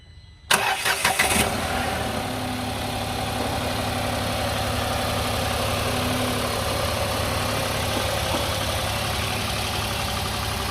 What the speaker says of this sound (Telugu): సో కార్ అయితే ఇప్పుడు ఒకసారి స్టార్ట్ చేస్తున్నాం.